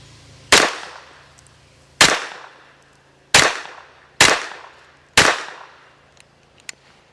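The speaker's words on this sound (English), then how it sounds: "Next up is 5 shots from 15 yards, this time with a Checkmate magazine and that Federal ammo" A Mech Tech CCU carbine loaded with Federal ammunition fires five sharp shots at a 15-yard target, each a loud crack with a short decaying echo, spaced about a second apart with quiet between them.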